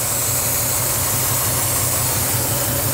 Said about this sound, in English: That engine's the one that came with the car.